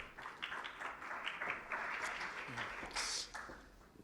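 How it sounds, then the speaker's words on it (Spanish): Moderate audience applause at an energy dispatch study presentation, uneven clapping swelling and fading over a few seconds, heard from a middle distance in a hall without speech on top. "Por favor, recibamos al doctor Revuelta con un aplauso."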